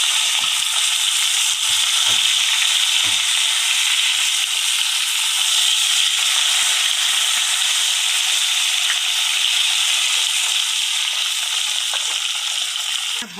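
Koi fish fry in hot oil with an even, dense hiss that holds steady and close throughout, broken only by a few faint soft knocks.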